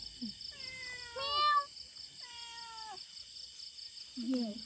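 A cat meows several times, drawn-out wavering cries with short pauses between, over a steady high electronic whine and quiet background.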